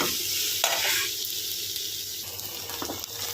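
Okra (bhindi) sizzles steadily in a pan while being stirred, with scraping strokes of the spoon cutting through the constant frying hiss, close and clear.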